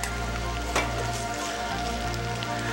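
Pork sizzling steadily in a hot pan with oyster sauce, a continuous close crackle and hiss with a brief louder burst near the start.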